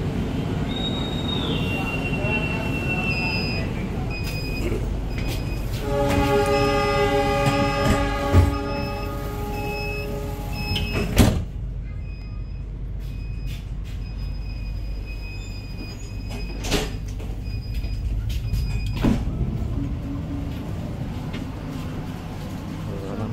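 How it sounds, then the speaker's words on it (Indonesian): A Taksaka passenger train sounds its horn with a long tonal blast at Gambir station, Jakarta, then wheels squeal and rumble as it slowly pulls away, with distant voices around. "Detik-detik pemberangkatan kereta api Taksaka dari stasiun Gambir."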